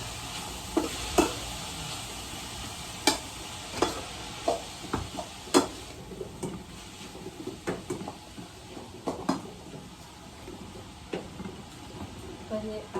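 Onions sautéing in a pan in a home kitchen: a soft continuous sizzle broken by repeated sharp clinks and scrapes of a spoon against the pan, close by, with a voice talking faintly in the background.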